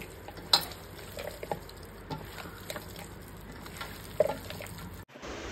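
Green chillies are mixed by hand into 2 kg of raw chicken, making soft, wet squishing and stirring sounds with a few louder slaps, close and fairly quiet.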